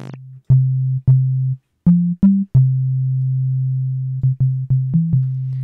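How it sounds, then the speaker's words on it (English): AIR Loom synthesizer playing a pure sine tone at the root with no harmonics, sounded as a series of separate notes, mostly one low pitch with a few slightly higher steps, each starting cleanly, alone and loud. "now that's giving me a pure sine wave because it's the root."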